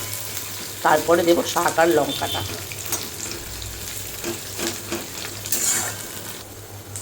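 Onions frying in a pan for dhekir shak with onion and garlic, a steady sizzle running throughout with some scraping and stirring clatter, while someone talks over it for part of the time.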